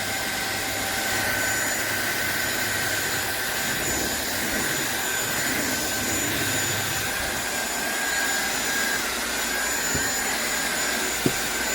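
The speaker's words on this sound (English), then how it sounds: "I love this vacuum so much." A SunSare 600W cordless stick vacuum cleaner runs steadily, a loud continuous whirring whine with no one talking.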